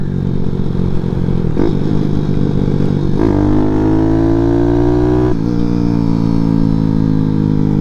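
A small 212cc Grom clone motorcycle engine runs loud and close, its pitch climbing in stepped revs with brief drops between gear changes.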